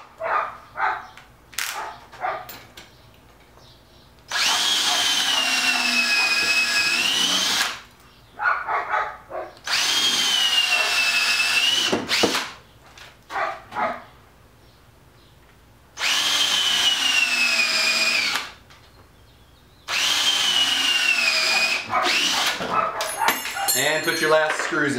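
A power drill whirs in four sustained bursts of several seconds each, drilling countersunk screw holes in a wooden beehive cover, separated by pauses with shuffling and handling noises.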